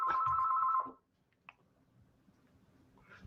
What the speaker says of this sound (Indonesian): Itulah yang terjadi ketika kamu melakukan siaran langsung dan telepon mulai berdering.